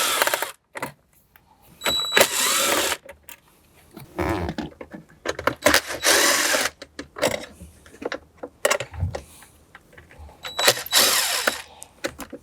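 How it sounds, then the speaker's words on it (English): A 7mm driver backs out the radio bezel screws on a Jeep dash, giving repeated bursts of ratcheting clicks close up, separated by short quiet gaps and soft handling noises. "Next, we'll use our 7mm to remove the screws."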